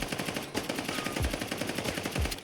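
An automatic weapon in the shooter game Warzone fires a rapid, unbroken stream of shots at close range, with deep booming impacts landing about a second apart.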